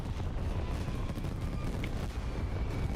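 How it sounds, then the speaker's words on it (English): Fireworks bursting during a festive event in the video game Wuthering Waves, a steady dense rumble of low booms and crackle with no pauses, loud and continuous throughout. "Hear the fireworks going off."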